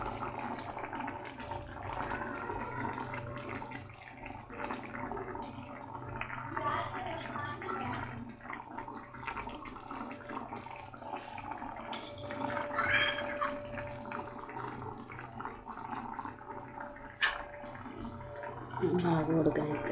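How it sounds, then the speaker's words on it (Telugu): Amla chicken curry gravy simmering in a pot, giving a steady close bubbling and gurgling throughout with occasional drips and pops, and a slightly louder burble near the end. "కొంచెం ఫుల్గా పెట్టి ఉడకనిద్దాం."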